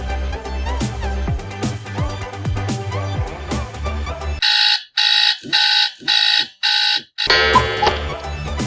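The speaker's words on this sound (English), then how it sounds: "set up the alarm with pleasant tone" An electronic alarm beeps in four loud, evenly spaced bursts, then keeps ringing, after a stretch of busy music-like background sound.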